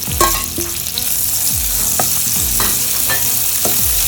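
Sliced onions sauté loudly in oil left from frying chicken, a close, bright sizzle broken by repeated scraping strokes of a spoon stirring the pan.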